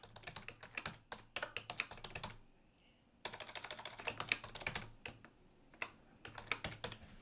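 Typing on a computer keyboard while setting up an email address and password: quick, close key clicks come in uneven runs, with a short pause in the middle and steady tapping after it.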